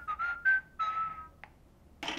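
A Meccano Micronoid Socket toy robot from Spin Master whistles a short, bright electronic tune of a few sliding notes. A brief click follows, then a burst of hissy noise at the end.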